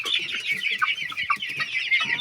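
A champion-breed rooster at a poultry show clucks continuously and close by, in quick, raspy, overlapping calls with no pauses.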